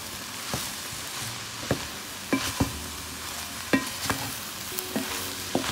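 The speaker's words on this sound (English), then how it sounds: "You have to really mix it well." Cauliflower rice with seasoning, turmeric and butter being stirred in a pan, giving a string of scraping, clacking utensil strokes at an irregular pace over a faint sizzle, heard alone and fairly close.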